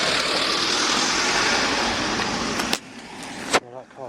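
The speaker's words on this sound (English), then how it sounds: "that car's got on reverse back" A car reversing along a narrow single-lane road, with steady engine and tyre noise that fades out, followed by a couple of sharp knocks near the end.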